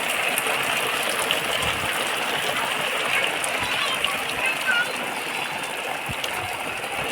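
Heavy monsoon rain pouring steadily outdoors, a dense continuous hiss and patter filling the whole scene at constant loudness with no pauses.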